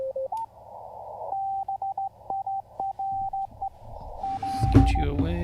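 Morse code CW tones on the 40-meter amateur radio band, a steady single-pitch beeping in quick dots and dashes over faint receiver hiss, with a person speaking and some handling noise near the end.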